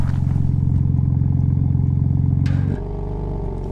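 Car engine held at a steady loud rev with its exhaust valves fully opened by a valve controller, a dense rumbling drone that drops to a lower idle near the end, close and without talk.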